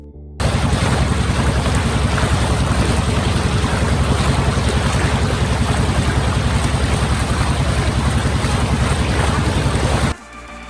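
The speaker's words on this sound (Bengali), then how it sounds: "ইঞ্জিনের ভটভট শব্দেই শুরু হলো আমাদের কাপ্তাই লেক ভ্রমণ" A trawler boat's engine chugs steadily and loudly on Kaptai Lake, a dense continuous drone with water and wind noise, running for about ten seconds before cutting off abruptly.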